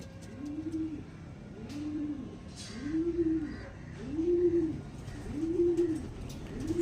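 Andhra pigeons cooing in a steady, rhythmic series of five soft, low, rounded coos at even intervals, close by, with faint background noise.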